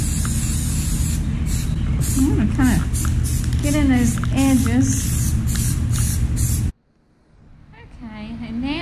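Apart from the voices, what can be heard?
purple spray paint sprayed onto a rug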